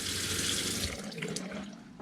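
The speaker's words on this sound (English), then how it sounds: "nice solid stream of water" A steady, solid stream of water rushes from an RV's hot water valve, a continuous close hiss with a slight dip midway and no voices.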